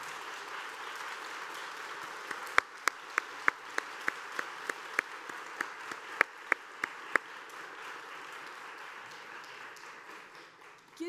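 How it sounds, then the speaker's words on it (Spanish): An audience at a forum on women and power in Latin America applauds the organizers: a fairly soft spatter of clapping with a few sharper claps standing out, lasting several seconds before fading. "sí me voy a permitir que le demos un aplauso a los organizadores y organizadoras"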